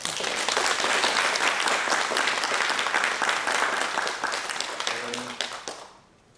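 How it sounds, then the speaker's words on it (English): An audience at a medical education reform lecture breaks into sustained, dense applause that holds steady, then tapers and fades out near the end. "Let us give him a big applause."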